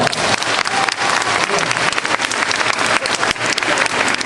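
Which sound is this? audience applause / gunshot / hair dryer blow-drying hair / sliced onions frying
audience applause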